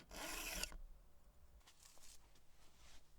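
A hand file rasps across the depth gauge of a chainsaw chain: one loud, harsh stroke up front, then a few fainter, lighter scraping strokes.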